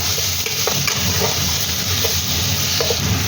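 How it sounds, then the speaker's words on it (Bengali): Cumin and coriander powder being stirred in a frying pan for a chicken stew, with a steady sizzle under scraping spoon strokes that recur every second or so, close and continuous. "একটু জিরে গুঁড়ো, একটু ধনে গুঁড়ো, দিয়ে একটু নাড়াচাড়া করবো"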